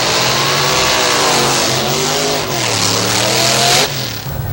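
A 1975 Chevy LUV pickup roars around a race track, its engine loud and close, revving steadily with pitch rising and falling as it works through gears, then easing off near the end.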